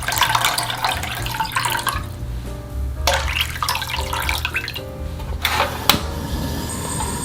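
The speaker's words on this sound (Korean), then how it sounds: "잘라놓은 고기에 물을 부어주세요." Water is poured from a container onto cut beef in a pot, a close, splashing rush that swells and fades in a few separate pours, with no talking.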